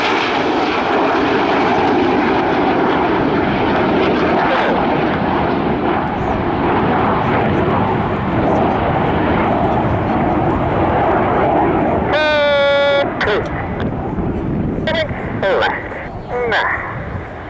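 Red Arrows display jets roar overhead during the RIAT 2024 airshow, a loud continuous engine rush sweeping across, easing off near the end as a display commentator talks over it.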